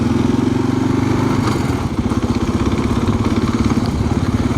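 A motorcycle engine revs and chugs loudly and close while riding off-road on gravel, its rough rhythmic pulse steady throughout with some clattering, no voices.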